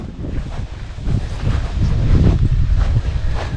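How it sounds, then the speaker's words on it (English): Wind gusts buffet the microphone outdoors on a breezy hot day near a house, a steady low rumble swelling louder through the middle, with no one speaking. "A little bit windy today, but not too bad."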